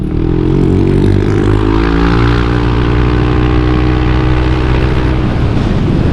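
A Yamaha Aerox 155 VVA scooter on standard tyres ridden fast, its engine a loud continuous drone whose pitch climbs and holds, heavy wind rush covering the whole stretch.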